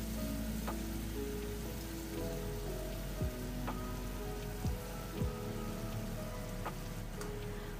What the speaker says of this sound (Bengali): এই ম্যারিনেট করে রাখা মাটনটা দিয়ে দিচ্ছি